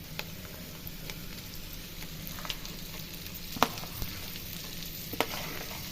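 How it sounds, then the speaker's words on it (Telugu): Okra and peanuts fry in a pan with a soft, steady sizzle and occasional light scrapes of a spoon, quiet and close, with no voices. "ఈ విధంగా ఫ్రై చేసుకోవాలి."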